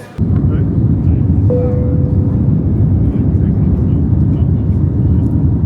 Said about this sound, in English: Okay, we've just taken off.